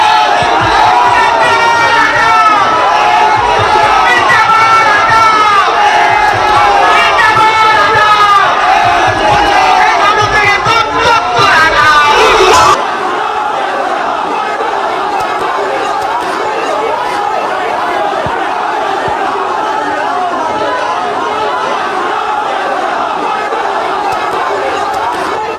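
Angry BJP workers at a party office crowd around opposition leader Suvendu Adhikari chanting "thief, thief" slogans: a dense, loud mass of shouting voices in rhythmic chants, continuous throughout, dropping somewhat in intensity halfway through.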